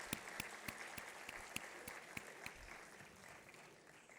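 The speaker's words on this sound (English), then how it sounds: "Let's have a big round of applause for all the dignitaries." An audience applauds the dignitaries at the 71st DGAQA Raising Day celebration: steady, moderately distant clapping from a crowd, with a few sharper individual claps standing out early on, then thinning and fading toward the end.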